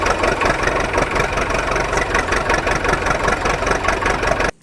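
A JCB backhoe loader's diesel engine runs in a loud, steady rumbling idle with a continuous mechanical chug, cutting off abruptly at the end.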